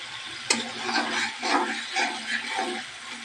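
Spices with turmeric and chili powder being stirred into duck meat in a cooking pan, soft scraping strokes repeating about every half second over a faint sizzle, with one sharp tap of utensil against pan near the start.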